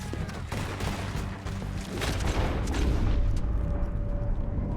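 Deadeye gunshots in Red Dead Redemption 2, a dense volley of booming shots rolling into one another, loud and continuous, with a faint voice mixed underneath.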